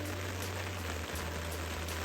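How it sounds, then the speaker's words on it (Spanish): Heavy rain pours down during a storm at a carp fishing spot, a dense, steady hiss of drops beating on surfaces with a low hum underneath, continuous and close, with no voices. "no para de llover"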